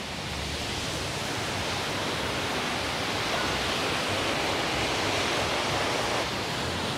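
Small waterfalls pour in a steady, dense, unbroken rush of white-noise-like water at moderate loudness, with no voices over it.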